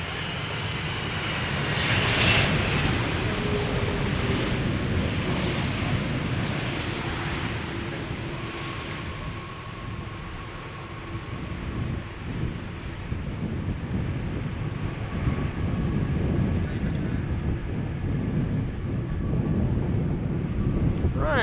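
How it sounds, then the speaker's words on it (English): An airplane lands at Amsterdam Schiphol Airport, its steady, broad engine roar holding for the whole stretch, loud and close with a slight swell and fade. "Going for the late touchdown and the floaty landing"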